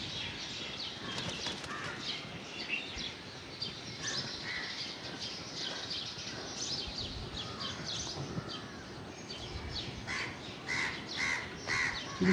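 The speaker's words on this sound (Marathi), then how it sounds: "काऊ बसला." Crows caw from a nest site in the evening outdoors, repeated harsh calls at moderate distance over a steady faint background, with occasional wing flaps and small chirps.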